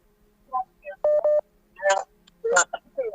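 Telephone dialing tones on a call-in prayer line: a short burst of steady DTMF tones, then brief ringing and connection sounds, fairly close and clear, with no talking.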